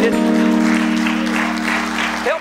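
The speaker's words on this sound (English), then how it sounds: "If you give the Lord a great big hand clap as you're seated." A seated church congregation claps during a Sunday service, a broad, sustained wash of hands clapping under a held organ chord, with a brief sliding tone near the end.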